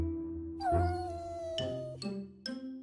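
A cartoon cat named Papu lets out a drawn-out meow, followed by two shorter musical mews, loud and close over a light backing score.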